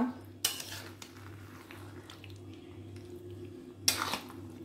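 Spiced marinated chicken pieces dropped into a hot pan for a Bengali-style chicken curry, giving two sharp clattering bursts of metal and food contact over a steady low hum, with quieter scraping between.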